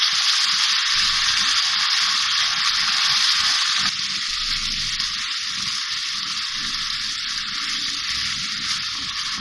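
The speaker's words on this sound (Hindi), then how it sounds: "इस तरह मैं भूनती जाऊंगी और इस तरह टमाटरों को मैश भी करती जाऊंगी" Tomatoes and spices fry in a pan for dhaba-style matar paneer gravy, a loud, steady sizzle and hiss that runs throughout, with faint scraping as the tomatoes are mashed.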